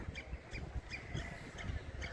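Birds chirp in short repeated bursts at a steady pace near Miramar Beach, Goa, fairly faint against a constant outdoor background hiss.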